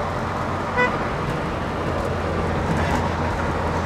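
A single brief horn toot rises out of steady car and road noise, with the rumble of moving traffic continuing throughout.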